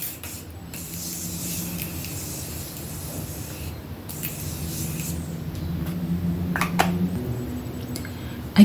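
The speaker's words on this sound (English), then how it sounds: "for my setting spray, I am going to go in with the Morphe Mattifying Continuous Setting Mist" Close, steady hissing of Morphe Mattifying Continuous Setting Mist spraying runs continuously, with a few small clicks and a sharp tap at the end.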